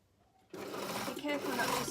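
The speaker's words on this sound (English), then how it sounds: "I'm going to sew from the top down to the bottom on the other side." A sewing machine stitching a pocket seam on fabric starts abruptly after a quiet moment and then runs at a steady, fairly loud whir.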